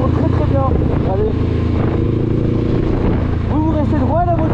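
A Honda trail motorcycle's engine drones steadily while being ridden, a low, constant hum running beneath a person talking.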